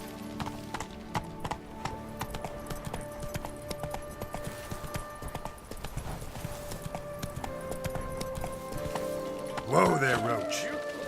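Roach, a horse in the video game The Witcher 3, with steady hoof clip-clop under continuous game music, then a brief whinny near the end.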